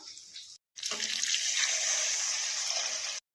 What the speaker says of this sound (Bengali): এবার আমি ডালটা দিয়ে দেবো, সেদ্ধ করে রাখা ডালটা।